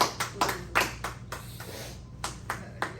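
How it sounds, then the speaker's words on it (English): A small audience claps for contestants after a mock audit quiz game, scattered uneven claps from a few people at close range, with brief voices underneath. "let's just give a big round of applause to our contestants today"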